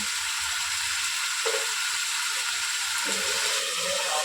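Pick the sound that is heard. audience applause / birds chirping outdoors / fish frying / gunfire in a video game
fish frying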